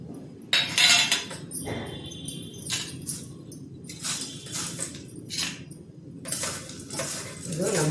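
A spoon scrapes and clinks against a pan while salt and chili powder are stirred into hot red poha, close and fairly quiet, in irregular bursts of metallic scraping.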